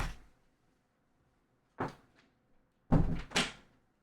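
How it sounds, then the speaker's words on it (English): Door being pushed shut indoors, a few soft knocking thuds followed by two louder closing bangs near the end, close and otherwise quiet. "I gotta go close the door."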